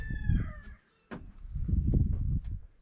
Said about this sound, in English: You can hear all the greetings of the animals.